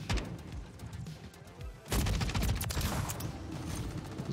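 An unsuppressed JAK Jawbreaker fires in a first-person shooter, a rapid string of sharp, loud shots with a brief pause before another dense burst of fire.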